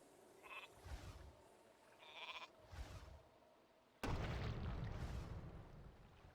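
Sheep bleating in Warcraft III, three short nasal bleats spaced about a second apart over a low game backdrop, then a sudden loud burst of battle noise takes over.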